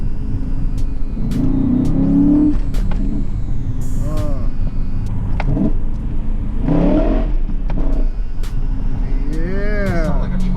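BMW E39 M5 with a new clutch revs hard, its loud exhaust rumbling and rising in pitch several times close by, while people talk over it inside the car.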